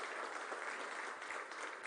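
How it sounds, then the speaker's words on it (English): Steady, dense applause from a political rally crowd in Philadelphia fills the moment, heard from a distance as continuous clapping without breaks. "Give Lawrence a round of applause."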